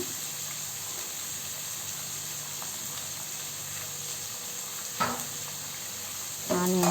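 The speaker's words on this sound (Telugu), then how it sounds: "బాగా ద్వారగా వేగేలా వేయించుకుంటున్నాను" Onions and curry leaves fry in a pan with a steady, even sizzle. A couple of louder stirring scrapes land near the end, and nobody talks.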